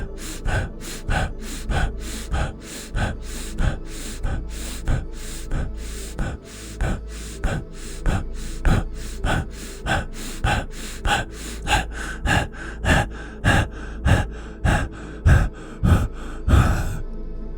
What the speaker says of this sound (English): Breathing in and out, increasing the speed between the inhale and the exhale.